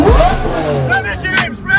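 A Koenigsegg CC850 engine revving at an event, loud and close, its pitch sweeping up and down through a quick rev, with people shouting and chattering around it.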